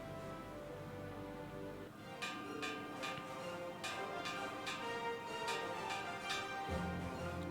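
A bell in Final Fantasy XIV strikes about ten times at an even, steady pace over a continuous low ambient game backdrop, moderately loud and close.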